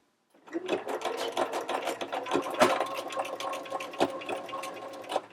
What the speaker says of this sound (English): as it's stitching into this side, and then it's coming over the top and doing that one single stitch into my fold